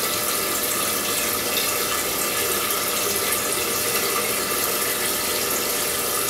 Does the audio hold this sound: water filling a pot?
yes